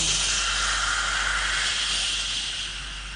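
A voice imitating a rocket launching, a steady breathy hiss held for about three seconds, loud and close, fading slightly at the end with no other sounds.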